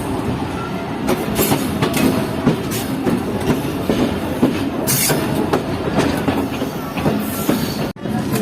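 A passenger train, the Mohen Jo Daro Express, runs through the Sindh countryside, loud and close, with steady rumble, rhythmic wheel clatter over rail joints and brief squeals, ending in a sharp drop.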